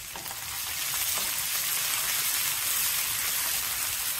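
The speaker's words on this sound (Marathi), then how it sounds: "तसंच आपण यामध्ये हिरवी मिरची आणि जिरं जे ठेचलंय ते घालून घेऊ।" Garlic with crushed green chili and cumin frying in a pan. A dense, even sizzle, close and steady throughout, with no talking.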